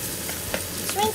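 Shrimp frying in a pan for shrimp fried rice, a soft steady sizzle with a few light stirring scrapes, close and fairly quiet, with no talk.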